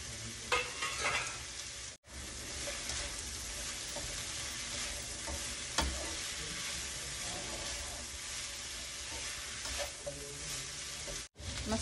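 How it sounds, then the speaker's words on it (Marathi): Bell peppers stir-frying in a pan, a continuous close sizzle with scraping stirs and occasional clanks of a utensil, broken by two brief cut-outs. "आता आपण आता ढोबळी मिरची घालूया भरपूर"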